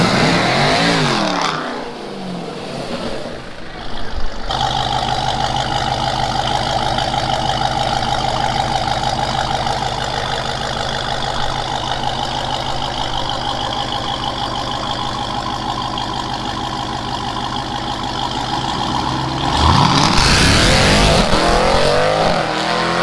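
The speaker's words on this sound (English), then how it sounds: "Here comes a drag race, and right now." Cars in a drag race, a loud engine roaring steadily and close for a long stretch, bracketed at the start and end by sharper bursts of revving acceleration.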